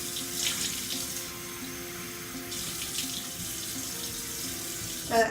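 Tap water runs steadily into a sink while a face is rinsed with lukewarm or cold water, a close, soft splashing hiss that continues alone with small surges and a brief louder splash at the end.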